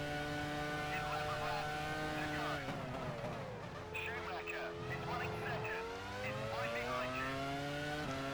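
An F1 race car in the F1 Challenge 99-02 game laps the Austria 2002 circuit. The engine whines high and steady, its pitch shifting through gear changes, with tire noise and faint talk underneath.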